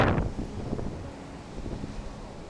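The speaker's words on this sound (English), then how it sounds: "There's a lot of wind, a lot of sand here." Wind gusting across an open sandy outdoor spot, a steady low rumble with buffeting against the microphone, a louder burst at the start and then a continuous breathy roar with no voices.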